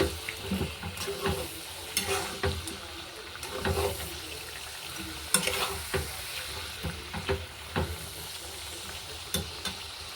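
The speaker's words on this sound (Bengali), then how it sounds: "মাংস এখন কষাচ্ছি আমি" Marinated chicken is stir-fried in a pan, with a close, steady sizzle broken by frequent scraping and clattering strokes of a spatula as the meat is moved around.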